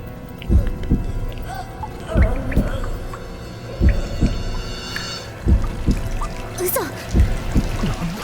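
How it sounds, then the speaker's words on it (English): Eerie water sounds in the horror game Spirit Hunter: Death Mark II drip and splash in a slow, spaced pattern of echoing drops and trickles, with faint voices talking now and then. "But the eerie sound of water is echoing after us."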